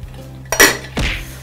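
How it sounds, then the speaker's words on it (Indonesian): Two metallic clanks as a lid is set onto a cooking pot of beef curry, a sharp clatter followed by a second duller knock, close and loud in a quiet kitchen. "Kita tutup sampai dia mendidih"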